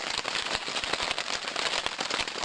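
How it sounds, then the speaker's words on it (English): Rain patters on a tarp strung over a campsite on a hike to Weed Lake in Algonquin, a dense, close crackle of many quick drops striking the taut surface without pause. "You can hear the rain on the tarp."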